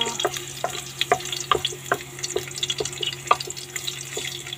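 Ginger fries in a pan with a soft, steady sizzle, punctuated by sharp clicks and taps of a utensil against the cookware, with no voices.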